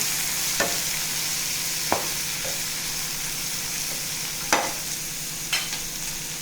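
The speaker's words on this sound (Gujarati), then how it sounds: "હવે આપણે તેને 2 મિનિટ માટે સાતળવાનું છે." Finely chopped tomatoes and cabbage sauté in a hot pan, a steady close sizzle broken by a few sharp scrapes of a stirring spoon, with no talking.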